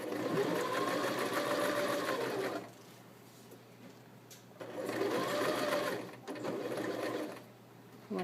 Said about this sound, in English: I'm going to sew forward a little bit, and then back stitch, and then sew